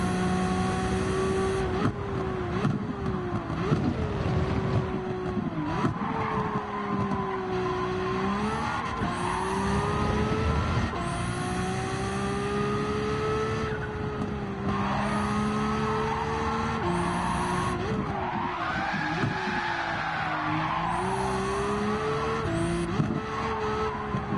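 A race car in a racing video game slides and skids, engine note rising and falling as tires squeal repeatedly over a lap, loud and continuous with no speech.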